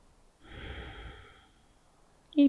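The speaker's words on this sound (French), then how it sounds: "Une dernière respiration." A person breathes during a yoga stretch, one slow, soft, close exhale lasting about a second, followed by a brief sharper sound at the end.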